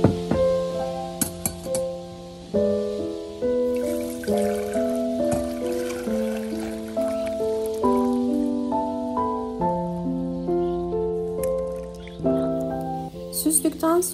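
Rice water trickles through a sieve, a steady close stream of dribbling and dripping heard under background music.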